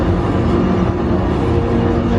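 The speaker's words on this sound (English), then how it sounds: "Wow, it makes some funny noises, this train." A theme park train ride at Universal rumbles along with a dense, steady mechanical roar and clatter, loud and close, filling the whole stretch without breaks.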